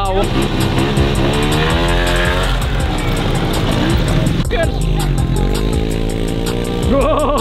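A 2022 Yamaha Raptor 700R ATV engine revs hard and close while riding, its pitch climbing and dropping through repeated throttle bursts, loud and continuous throughout.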